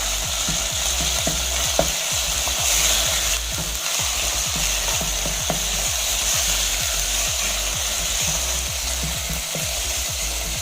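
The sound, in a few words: minced beef frying with browned onions, stirred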